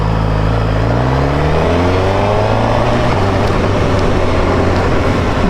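A 2023 Suzuki Katana motorcycle pulling hard through the gears with its quick shifter, the engine note rising in steady pitch sweeps broken by quick, seamless shift drops, loud and constant with wind rush and no talking.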